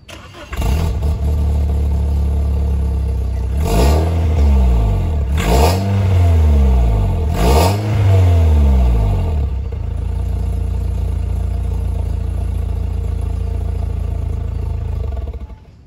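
A 2001 BMW E46 318i with the M43 engine and a switchable exhaust, revved three times in loud close bursts that rise and fall, then settling into a steady rumbling idle.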